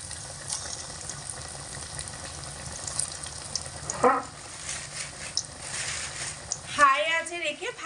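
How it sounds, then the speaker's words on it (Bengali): Puffed rice pakoras frying in hot oil, a steady crackling sizzle under a speaking voice, with a sharper bubbling burst as more pieces go into the oil. "পকোড়ার শেপগুলোকে তেলের মধ্যে দিয়ে দিচ্ছি একে একে একসাথে বেশি দেব না চারটে করে এক একবারে ভেজে নেবো"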